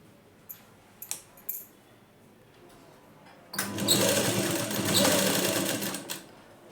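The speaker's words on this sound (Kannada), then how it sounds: "ಈ ಥರ ನಿಧಾನವಾಗಿ ಸ್ಟಿಚ್ಚನ್ನ ಮಾಡ್ಕೊಳ್ಳಿ" A sewing machine stitches the front part of a plain blouse. A few light clicks come first, then a loud, continuous burst of rapid stitching lasts about two and a half seconds before stopping.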